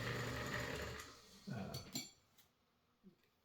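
A White model 265 sewing machine runs at a gentle pace with a steady whirring stitch for about a second and a half, then stops, followed by a few faint clicks and taps.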